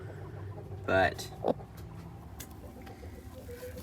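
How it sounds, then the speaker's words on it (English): Chickens sitting on eggs give a couple of short, loud clucking bursts close by, with a quieter cluck following amid a soft farmyard background; a person says a brief word. "So a bunch of chickens sitting on eggs."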